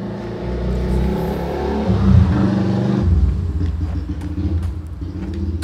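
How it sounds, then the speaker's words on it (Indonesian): A loud motor engine in the Spider-Man: Miles Morales video game on PS4 with a steady revving roar and a deep rumble that swells midway, heard close, with no talking. "itu suara motor kenceng banget."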